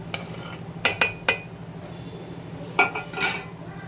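Tomatoes and green chilies tipped into a cooking pot while making chicken biryani, giving a few sharp clinks and clatters of metal and cookware in two short bursts over a faint steady hum.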